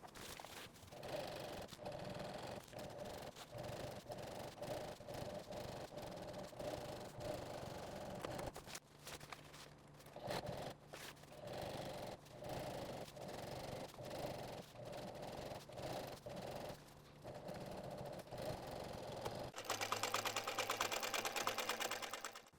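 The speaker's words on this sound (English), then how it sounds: "we'll put it back on the sewing machine and stitch a 1/8 inch seam all the way down the edge" A sewing machine runs in steady repeated bursts, stitching a 1/8 inch seam down the edge of a 24L duffel bag, with brief pauses between runs and no talking.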